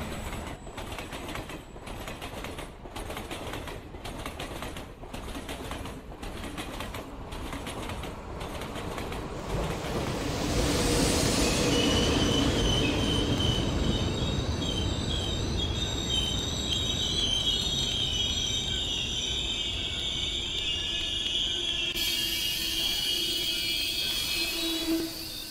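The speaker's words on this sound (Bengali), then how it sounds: "তারপর একটা লোকাল ট্রেন ধরল।" Local train running on rails: regular wheel clacks over rail joints at first, then a louder, steady rumble with squealing, whining wheel tones, close and continuous, no talking.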